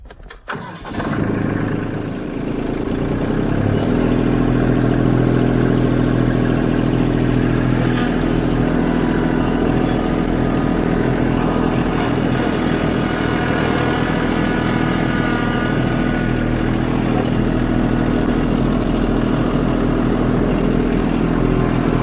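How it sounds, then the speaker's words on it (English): A Kubota LX2610 tractor starts up and runs steadily with a loud, close diesel drone and constant rumble while pulling a box blade, no voices over it. "I don't think you can hear me once this tractor is running"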